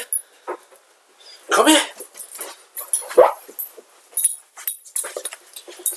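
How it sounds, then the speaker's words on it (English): Dog whimpering and making short whiny yelps and snuffling sounds up close, intermittent bursts across several seconds, while a person briefly speaks to it. "This is the dog."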